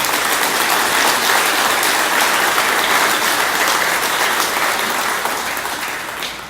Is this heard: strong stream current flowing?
no